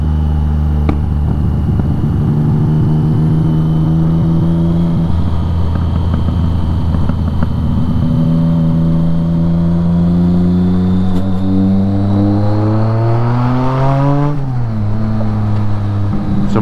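BMW K75 motorcycle engine on a back-road ride after throttle-body synchronization, loud and close, a steady droning hum that rises and falls through gear changes with wind rush underneath.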